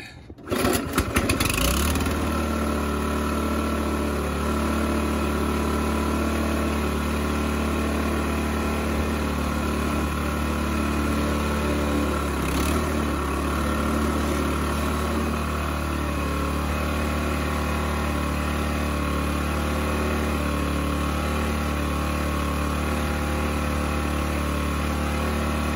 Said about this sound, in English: I'm gonna turn it on and we'll see if it'll idle without the auger spinning.